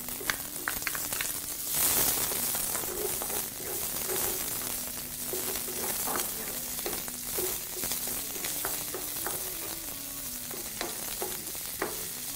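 Onions frying in oil with ginger and garlic in a pan for a potato hash, a steady close sizzle with scattered crackles and the occasional scrape of stirring, alone throughout.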